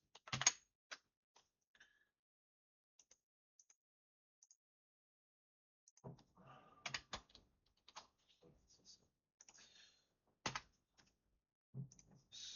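Short clusters of computer keyboard keystrokes, quiet and close, separated by long silent gaps, with bursts of clicking picking up toward the end.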